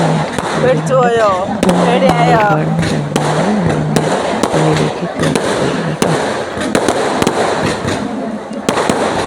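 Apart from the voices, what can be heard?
firecrackers bursting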